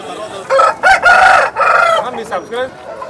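A rooster crows loudly and close by at a rooster market in Vijayawada, one long strained call broken into several harsh bursts with a few softer trailing notes.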